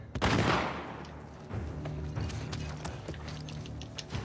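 Gunfire in the video game The Last of Us Part II: one loud, booming shot with a long echoing tail opens, followed by scattered sharper cracks and mechanical clicks over a steady low rumble, with no talking.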